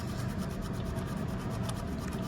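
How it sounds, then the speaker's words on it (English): A tool scrapes paint off a G scale model hopper car in short, rapid repeated rasping strokes, close and fairly loud, with no talking. "Just scraping a little bit. And it takes the paint off."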